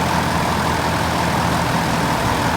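A Viking 90 three-cylinder Mitsubishi engine fitted to a home-built Rans ultralight plane runs with a steady, loud, close drone, unbroken for the whole stretch.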